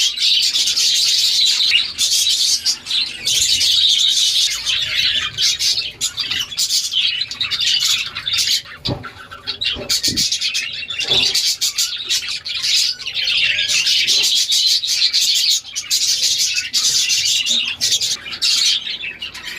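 Budgerigars, a female in a clay-pot nest with several males nearby, chirping and chattering continuously and loudly at close range, with occasional sharper squawks.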